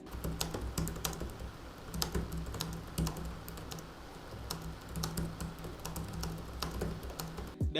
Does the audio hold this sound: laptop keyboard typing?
yes